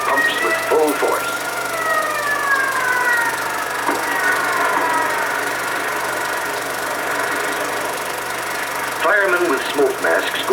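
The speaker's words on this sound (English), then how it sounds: "Now the engine pumps with full force." Fire engine pumping water at full force during a 1960s American firefighting scene, a loud steady drone with a rising whine, joined by brief clattering near the start and end.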